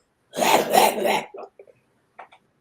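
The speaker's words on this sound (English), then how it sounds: "This woman in there coughing." A woman in a store lets out a single loud, harsh cough burst up close, followed by a few fainter short coughs and throat sounds trailing off into silence.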